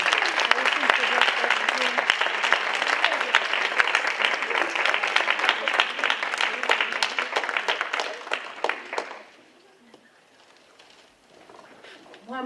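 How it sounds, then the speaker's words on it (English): Warm, continuous applause from a summit audience for a speaker, dense and even with scattered claps and a few whoops, then cutting off abruptly to near silence. "One more round of applause for Ms. Jillian"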